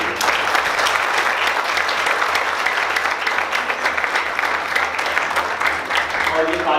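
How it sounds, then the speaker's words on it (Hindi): Loud, sustained applause from a large audience at a 2022 felicitation ceremony, dense clapping filling the room without pause, with faint voices mixed in. "तालियां जोर से"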